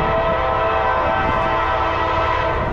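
A loud, sustained horn from Norfolk Southern locomotive 268 blares steadily, a rich chord of tones held without a break from start to finish.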